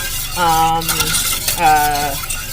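A spoon scrapes and stirs thick vanilla cream pie filling in a pot, two drawn-out strokes with a faint bubbling sizzle underneath, close and fairly loud.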